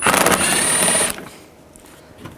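A ratchet with a 7mm socket spins out a panel bolt on a 2010-16 Buick LaCrosse, a quick loud burst of rapid clicking for about a second, then near quiet.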